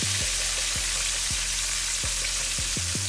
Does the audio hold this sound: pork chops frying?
yes